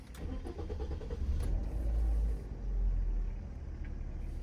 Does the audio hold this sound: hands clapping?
no